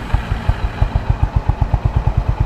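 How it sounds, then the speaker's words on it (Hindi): A Honda CB350 motorcycle idles through its chrome exhaust in an even, thumping beat of roughly six or seven pulses a second, close and alone. "अब मैं आपको सुनाता हूँ इसका एग्जॉस्ट."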